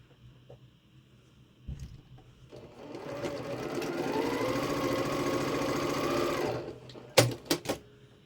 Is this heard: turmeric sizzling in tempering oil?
no